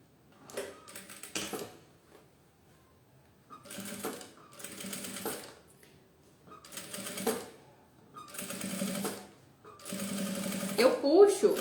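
A sewing machine topstitches a lined zipper pouch in four or five short bursts of rapid stitching, with pauses between them and a voice speaking during the quiet gaps.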